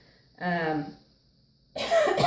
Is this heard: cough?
yes